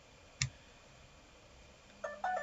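Mobile phone giving a short notification: a single click, then a brief faint tonal chime a couple of seconds later, quiet in an otherwise still room.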